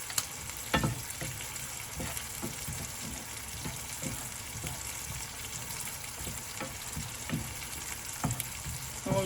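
Pine nuts sizzle and fry in a hot pan while being stirred, with steady crackling and repeated scraping knocks of the utensil against the pan throughout.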